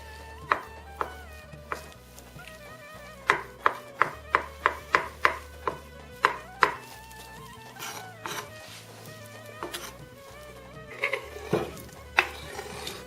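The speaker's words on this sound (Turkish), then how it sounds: "yumurtaları doğramaya devam ediyoruz" Repeated knife chops through boiled eggs on a cutting board, sharp and close, coming in quick rhythmic bursts with short pauses between runs.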